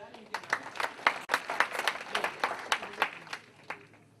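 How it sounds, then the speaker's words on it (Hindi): A small group claps for a reader at a national integration camp, a sparse patter of separate handclaps, fairly close and moderately loud, with no talk over it. "एक ताली बजा दो यार इनके लिए।"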